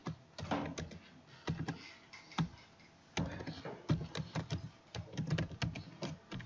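Rapid, uneven keystrokes on a computer keyboard while code is being typed, a close run of sharp clicks in quick bursts with short pauses between them.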